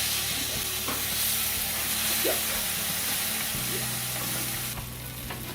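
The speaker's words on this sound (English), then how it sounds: "Sizzle." Meat sizzles steadily in a frying pan, a dense crackling hiss with occasional clinks and stirring sounds, close and continuous.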